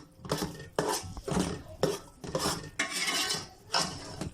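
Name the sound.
mixing flour into sarson ka saag in a pot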